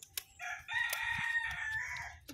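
A chicken lets out one clear, close crow lasting about two seconds, preceded by a brief cluck, against an otherwise quiet farmyard.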